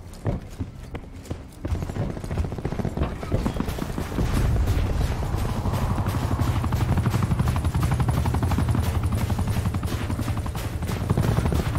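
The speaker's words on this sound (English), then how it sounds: "TACOM, deploy attack helicopter my grid." Attack helicopter in a video game, its rotor chop building into a loud, steady rhythmic thumping that grows after a few seconds and continues throughout with no talk.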